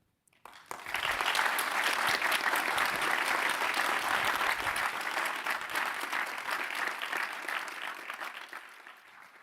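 Sustained applause from a lecture-hall audience welcoming a speaker to the stage at a sustainability talk, starting abruptly, holding steady and dense, then tapering off toward the end.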